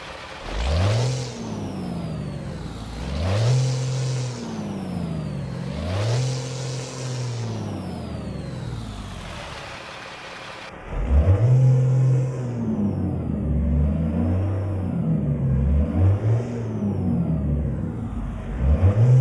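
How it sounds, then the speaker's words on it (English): A tuned Cummins N11 diesel of about 579 horsepower in a T660 truck in American Truck Simulator cranks to life, then revs in repeated loud, rising-and-falling surges before settling into a deeper, rumbling rev pattern, with no talk. "let's go ahead and start up this truck here. We do have a Cummins N11 tuned, about 579 horsepower"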